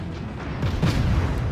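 Cruiser guns firing aboard the Erie in World of Warships on a polar map, heard as a loud, rumbling series of deep booms that swell and roll together over about a second and a half.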